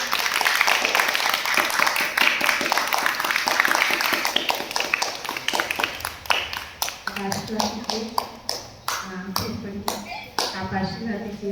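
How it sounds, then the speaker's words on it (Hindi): Children clap together at a Vedic community ceremony, a dense burst of hand claps that thins into scattered, uneven claps while voices carry on over them. "सब तालियां बजाओ"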